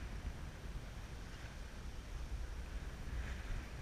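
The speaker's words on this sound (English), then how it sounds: "a sailboat, off the coast of Oregon, trying to get up to the Strait of Juan de Fuca." Faint, steady wash of ocean waves and wind around a sailboat off the Oregon coast, a continuous low rushing noise with no voices.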